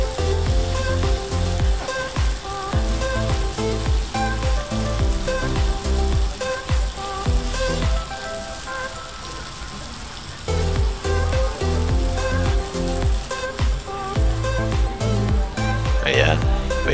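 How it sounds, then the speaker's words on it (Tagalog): Sisig sizzling on a hot sizzling plate with an egg, a loud continuous frying hiss with crackles that dips briefly partway through, with speech heard over it. "bago natin lagay sisig, yan po ipinapainitan natin sa ating kalan yung ating sizzling plate"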